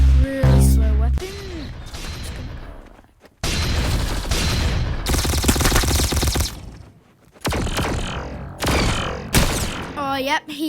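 Pulse musket and hand cannon fire in the Roblox Arsenal shooter game, with loud rapid bursts of shots and booms in dense clusters broken by short gaps, mixed with game sound effects.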